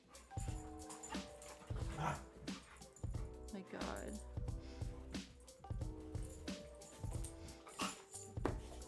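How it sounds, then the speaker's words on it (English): Dogs wrestling indoors, with yips, whimpers and soft growls scattered through constant background scuffling and thumps near a desk, under a person talking briefly. "my dogs are wrestling in the background"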